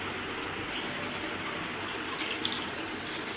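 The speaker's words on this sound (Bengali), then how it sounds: "এখন দিয়ে দেব হালকা করে ঝোল" Broth pours steadily into a fish-head and eggplant curry, a continuous close liquid rush that stays even throughout with a faint splash near the end.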